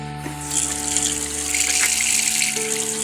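Water runs steadily into a homemade dish-washing sink, a continuous close rushing splash over a low humming drone.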